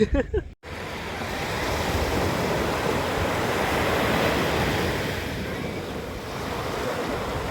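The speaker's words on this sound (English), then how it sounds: "Come to the beach, let's go in the sea properly." Sea waves rolling onto the beach at Bournemouth, a steady loud wash of surf mixed with wind buffeting the microphone, continuous with no voices.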